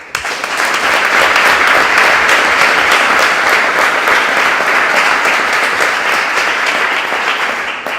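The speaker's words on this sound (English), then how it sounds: "Give yourselves a round of applause for doing everything that you're doing and touching the lives of America's students" Dense, steady applause from a large audience at a demo day event, many hands clapping continuously at full strength for several seconds.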